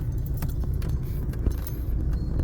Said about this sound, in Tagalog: monstrous traffic jam